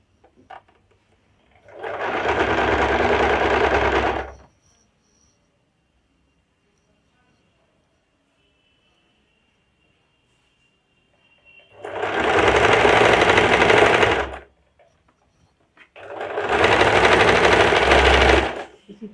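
A sewing machine stitches the seams of pants-style fabric in three loud, steady whirring runs, each lasting a few seconds, separated by near silence.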